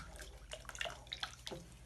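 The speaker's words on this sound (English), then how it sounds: "When you mix it up, you pour in your hot water, boiled water. You stir it up to mix it up." Hot boiled water is poured over maize meal and stirred while making sadza, giving faint, close liquid sloshing and a few soft drips at low volume.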